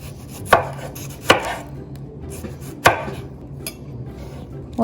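Knife cutting red onion and lettuce on a cutting board, a few sharp, separate chops spaced well apart over quiet kitchen background, close and crisp.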